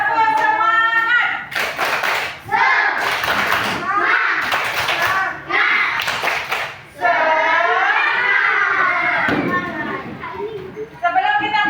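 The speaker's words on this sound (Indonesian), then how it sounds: "Sebelum kita memulai pelajaran, kita tepuk semangat dulu." Schoolchildren in a classroom perform a rhythmic 'tepuk semangat' clapping chant, bursts of clapping alternating with voices chanting together, loud and close.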